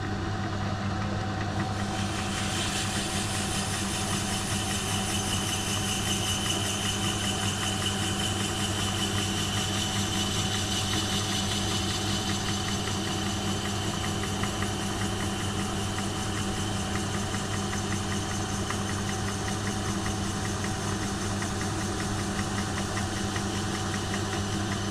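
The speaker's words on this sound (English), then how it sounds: "then we'll just remove the rust with the Scotch-Brite" A lathe runs at a constant drone with a steady hum and faint whine while Scotch-Brite scrubs the rust off. The sound is unbroken and even from start to finish.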